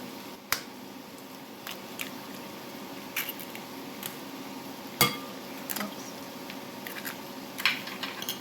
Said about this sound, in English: And beat it with a fork.